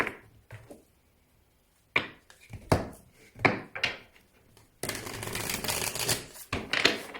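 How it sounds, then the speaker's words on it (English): Tarot cards slide and slap off a deck, a few separate card-handling sounds with scuffs on a table, followed by a steady papery shuffle. "Let's pull some more cards here."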